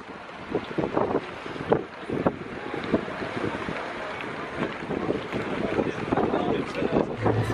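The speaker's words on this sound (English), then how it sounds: "It is super windy again." Strong wind buffets the microphone in loud, uneven gusts at a seaside port on Mykonos, with a rushing outdoor background by the water.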